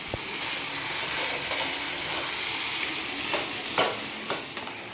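Mutton curry with potatoes sizzling and frying steadily in a pan as it is sautéed, a dense continuous crackle with a few stirring scrapes, close and fairly loud with no talk.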